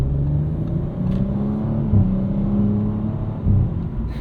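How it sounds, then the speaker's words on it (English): A 2023 Audi RS5 Competition with a twin-turbo V6 and 8-speed automatic drones steadily from inside the cabin on a morning commute, with brief burbles and bumps in the engine note at gear shifts. "you still get little farts between gear changes from this 8-speed automatic"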